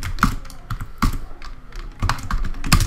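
Code being typed on a computer keyboard, a run of quick clicky keystrokes in uneven bursts, close and moderately loud, with no talking.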